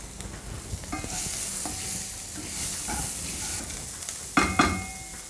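Onions frying in a pan for brinjal masiyal give a steady close sizzle throughout, with a few stirring clinks of a utensil, louder near the end, and no talking.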